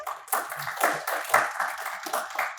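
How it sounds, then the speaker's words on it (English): An audience at a One Young World panel event on the environment applauds a panelist, a soft, steady patter of many hands clapping at a distance for a few seconds with no talk over it. "Can we have a huge round of applause for him?"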